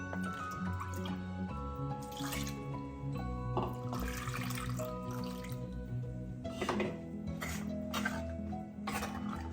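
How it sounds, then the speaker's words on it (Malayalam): Water poured into a pot of Malabar-style mussel curry with ground coconut, giving a close splashing, trickling pour with uneven gurgles and drips that continue for several seconds, no talking. "ഇനി നമുക്ക് കുറച്ചുകൂടി വെള്ളം ചേർത്ത് കൊടുക്കാം"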